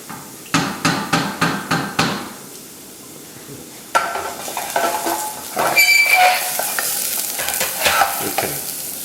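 Carrots are stirred in a pot of chicken soup on a stove: a quick run of rhythmic scraping strokes, a pause, then a busier stretch of utensil clinks and stirring over a soft simmering hiss, close by with no talk.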